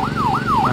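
A slow-moving emergency vehicle siren wails in long, steady up-and-down sweeps, clear and fairly close over a low road rumble.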